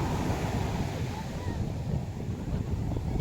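Sea waves at the shore, a constant rushing roar of surf with heavy wind buffeting the microphone, loud and close throughout.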